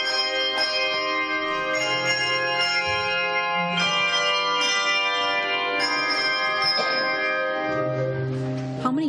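Handbells and choir chimes ring out together in a church, sustained bell tones overlapping in a steady stream of struck notes that sound loud and close, with no talking.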